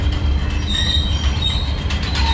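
A train rolling on rails through a coal-mining village, loud and steady with wheels squealing and a constant rumble, close by and without talking.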